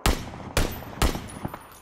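An SKS rifle fires in a shooter video game: three loud, sharp shots about half a second apart, followed by a fainter fourth report, with no talking.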